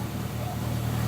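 A Morris car drives along with a slightly dragging gearbox, its steady low engine drone and road rumble filling the cabin continuously and fairly loud.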